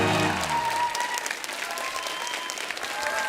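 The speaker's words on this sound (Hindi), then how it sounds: "जोरदार तालियां हो जाए हमारे सुपरस्टार आरजेस के लिए।" Studio audience at a comedy talk show bursts into loud, sustained applause, dense clapping right from the start with a brief voice over the opening.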